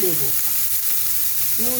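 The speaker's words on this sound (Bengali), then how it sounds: "কপিটা আলুটা হাফ ভাজা ভাজা হয়ে গেছে" A steady sizzle of cauliflower and potato frying in a pan, continuous and close, with faint clinks of a utensil at the start and end.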